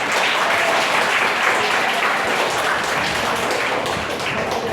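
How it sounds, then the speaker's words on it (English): A class of learners claps together in a sustained, dense round of applause, loud and close, with no talking over it. "Give a big round of applause for yourself."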